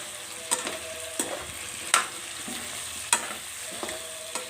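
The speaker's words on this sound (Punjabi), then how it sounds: "ਆਲੂ ਦੇ ਪੁੱਜੇ ਇਹ ਹੈ ਇਦਾਂ ਦਾ ਫਰਾਈ ਕਰਕੇ ਲਾਲ ਕਰਕੇ" Potatoes fry in a pan to a dry sizzle, broken by sharp scraping strokes of a spatula roughly every second; nobody talks.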